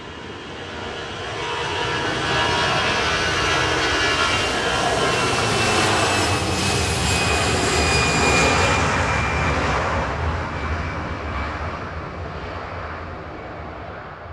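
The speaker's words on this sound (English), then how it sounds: "Heading off to Fortaventura, flight 909, 737-800 for Jet 2." A Jet2 Boeing 737-800 departs Manchester Airport, its jet engines building into a loud, broad roar that holds steady and then slowly fades as the aircraft climbs away.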